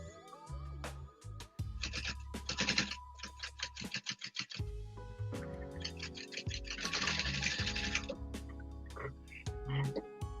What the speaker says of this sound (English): laying my edge right on the inside of that presser foot, back stitch